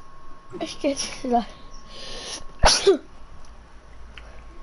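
A single sharp sneeze bursts out close and loud between a player's brief speech during a live online game session, with faint background hum.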